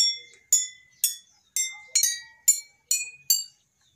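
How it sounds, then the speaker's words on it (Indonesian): Eight separate bright, ringing taps on water-filled glass bottles, each note struck alone with a short decay and different pitches from bottle to bottle, close and clear. "Kita lanjutkan dengan mengetuk tiap-tiap botol untuk mengetahui frekuensi bunyinya."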